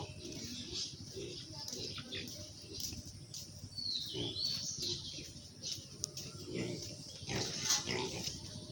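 Pigs in a small farm pen in Assam grunt and snuffle steadily throughout, a dense low rumble of close animal noises with some faint bird chirps in the background.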